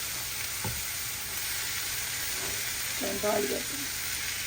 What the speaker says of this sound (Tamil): இந்த இப்போ பிரியாணிக்கு தாளிக்கிறேன்